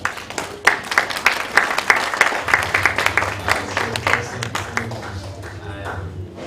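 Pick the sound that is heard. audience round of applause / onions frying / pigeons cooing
audience round of applause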